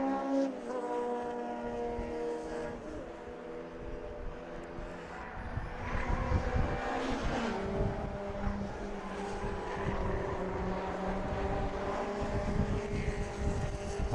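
MG Cup race cars at Brands Hatch, near Graham Hill Bend, with a steady layered engine drone that swells and shifts pitch as several cars pass, loud throughout with no talk.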